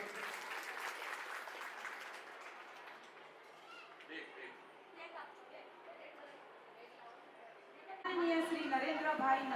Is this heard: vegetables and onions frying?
no